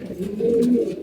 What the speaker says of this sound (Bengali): কবুতর সুস্থ থাকলে কবুতর ডাকাডাকি করবে